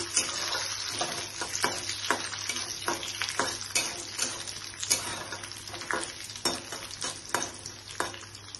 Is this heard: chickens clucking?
no